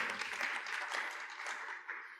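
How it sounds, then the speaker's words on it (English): An audience applauds at a general assembly session, a steady patter of many hands clapping for a couple of seconds at moderate distance with no talk over it. "please clap for Summer, because she provided everything"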